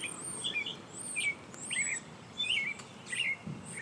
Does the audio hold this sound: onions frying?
no